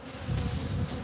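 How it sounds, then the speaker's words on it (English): Guard bees buzzing around a hanging hive, a loud, steady, close swarm drone that swells and fades slightly in waves throughout with no voices. "look at all the guard bees"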